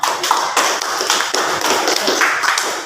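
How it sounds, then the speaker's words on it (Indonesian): A classroom of students claps for a classmate, producing steady, dense, fairly loud clapping with rhythmic pulses that runs without pause, close and free of speech. "Kepada Rianti kita berikan tepuk tangan"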